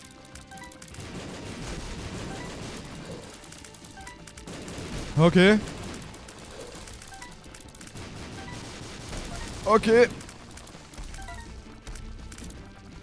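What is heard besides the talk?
enemies exploding in video game Binding of Isaac Afterbirth+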